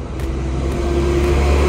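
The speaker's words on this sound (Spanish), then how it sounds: "Vean cómo vienen estos camiones" Trucks coming down a steep mountain road toward Cerro El Pital in Chalatenango, a steady close engine rumble that grows slightly louder, with no talking.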